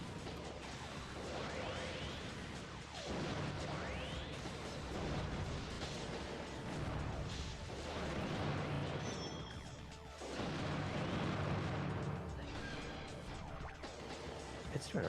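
Bomb blasts and chaotic robot combat in Custom Robo: Battle Revolution, with repeated heavy explosive booms and whooshing projectiles layered into a dense, continuous barrage of game noise at moderate level.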